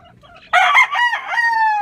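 A chicken crows loudly and close by, one long drawn-out call with a rising, strained tone, after a brief quiet start.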